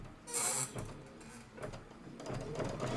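An embroidery machine stitching a tack-down on fabric while making a quilted mitten, producing a busy mechanical whirring and clatter in uneven bursts at close range.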